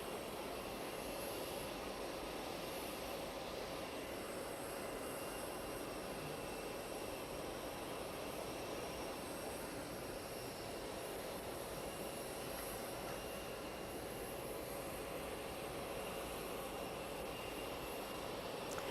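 Air Force One, a large jet, idles on the apron at Armstrong International Airport as the stairs are lowered: a steady, loud engine roar and high whine fill the whole stretch without letting up, with no talk.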